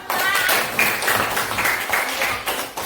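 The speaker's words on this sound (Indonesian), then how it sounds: "Tepuk tangan dong." Students in a classroom clap together, a dense, steady burst of hand clapping that fills the room at close range, with voices mixed in.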